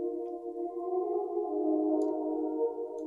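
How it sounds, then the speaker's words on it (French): A sustained trap-beat synth pad holds layered tones with added reverb, played alone and fairly soft for about three seconds, with a couple of faint high ticks. "Et on va pousser la reverb."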